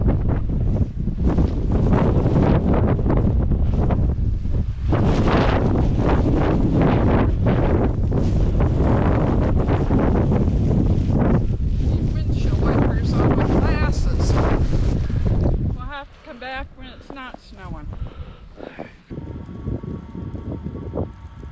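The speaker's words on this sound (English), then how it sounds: "At Bryce Point, there were strong winds, cold, and blizzard conditions" Strong blizzard wind roars and buffets the microphone at Bryce Point, a loud continuous rumble for most of the stretch before dropping off sharply to quieter gusty noise near the end.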